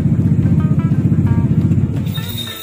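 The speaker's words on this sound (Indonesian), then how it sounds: "ini sekitaran digas kayak gini nih baru ngisi akinya" A Vespa Primavera scooter engine held at a steady fast idle with the throttle opened to charge the battery, a loud close pulsing putter that eases off near the end.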